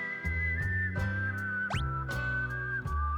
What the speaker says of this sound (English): you can hear the guy breathing in, so you know it's somebody whistling